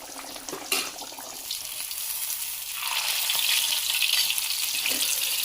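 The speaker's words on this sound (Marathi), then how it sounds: "यांची पण एक बाजू झाली फ्राय तर पलटूया तर हे पण पीस फ्राय झालेत मस्तपैकी" Fish pieces sizzling in a pan, a close, steady frying hiss that grows louder midway, with a brief clatter near the start and no voices.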